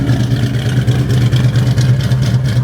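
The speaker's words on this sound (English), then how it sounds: "Listen to the exhaust," Exhaust of a Fastback Mustang running steadily at close range, a deep, continuous low rumble with a slightly uneven throb and no talking over it.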